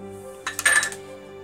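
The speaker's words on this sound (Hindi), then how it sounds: "इस शिमला मिर्च के कुछ टुकड़े मैंने इस तरीके से फ्राई करके रखे थे, वह इस प्रकार से हम डाल देंगे" Pieces of pre-fried capsicum tip into a pan for a garlic chicken dish, giving one short metallic clatter over a low, steady kitchen hum.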